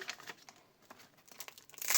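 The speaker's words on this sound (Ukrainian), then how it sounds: "Відкриваємо цей пакетик." A paper surprise packet is opened by hand, giving close, soft crinkling and crumpling that swells into a louder rustle and tear at the end, with no talking.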